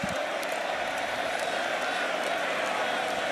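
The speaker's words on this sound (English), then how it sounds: "Listen to the crowd here in Montreal." A football stadium crowd in Montreal at a Canadian football game roars in a steady, broad wash of noise, with scattered whoops and cheers rising out of it.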